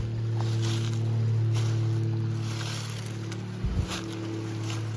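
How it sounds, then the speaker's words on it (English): A twin-engine plane passes overhead above wooded hiking country with a steady, distant droning hum. The drone holds level throughout, and a brief low thump comes near the end. "That's a 2-engine plane, so I never see them."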